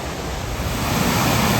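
Rushing waterfall beside a hiking path on Scotland's north coast, a steady broadband roar of falling water mixed with some wind buffeting the microphone.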